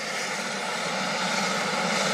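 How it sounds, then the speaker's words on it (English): A helicopter lifting off from an estate, a steady, loud broadband engine and rotor roar that holds constant and builds slightly over the short stretch, with no talking. "here we have the helicopter taking off from the estate."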